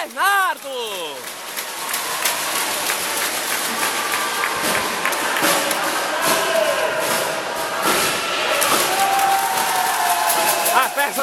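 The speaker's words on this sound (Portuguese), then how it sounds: "Festa da torcida" Fans cheer at a youth under-7 futsal final, a dense, loud wash of crowd noise and applause that holds steady, with a commentator talking over it.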